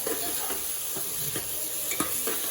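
Chicken biryani ingredients fry in a pan as they are turned until golden, a steady close sizzle broken by a few soft scraping stirs.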